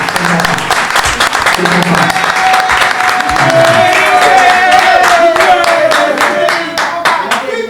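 Audience applause for the Congolese singer billed as king of the forest, dense clapping with a few cheers that holds steady throughout, with a voice carrying over the crowd.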